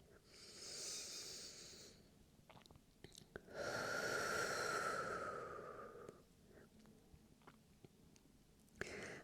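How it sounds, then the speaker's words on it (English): Soft breathing with a long, gentle exhale pushed slowly through rounded lips, close and quiet, with a few faint breaths and small mouth sounds around it. "on your exhale, making a little O shape with your lips, like you would when you're whistling"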